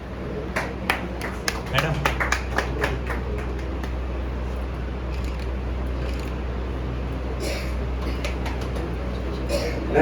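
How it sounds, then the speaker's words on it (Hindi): At a company's annual function, a small audience claps in a brief scattered round that fades into a murmur of background chatter and room noise, with a few more claps near the end. "एक बार तालियां हो जाए"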